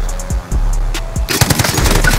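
Automatic gunfire in the video game Call of Duty Warzone, a loud rapid burst of machine-gun shots kicking in partway through after a few isolated shots, dense and continuous to the end.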